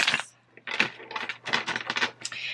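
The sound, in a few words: shuffling a deck of tarot cards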